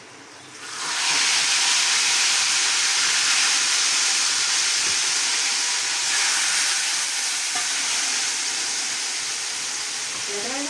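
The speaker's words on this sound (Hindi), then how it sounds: "और ये सारा तड़का इसमें डाल दूँगी।" Hot tadka tempering is poured into a pot of curry, erupting after about a second into a loud, steady hiss and sizzle that stays strong for the rest of the clip, with faint clinks near the end.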